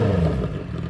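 A motorcycle engine revved up to about 4000 RPM, giving a steady, close, loud one-second roar with a slight dip toward the end.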